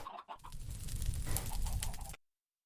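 Chickens on a chicken farm in Minecraft clucking steadily for about two seconds, a dense close flock of clucks that cuts off abruptly into silence.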